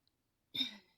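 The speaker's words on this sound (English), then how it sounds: "I'm coughing like crazy." A single short cough, close and fairly faint, after a moment of silence.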